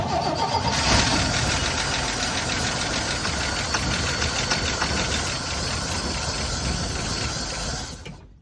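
A 1972 Chevy C10 engine cranks and catches, the starter's rhythmic churning giving way to a rough, loud running engine at close range that holds steady for several seconds before cutting off at the end.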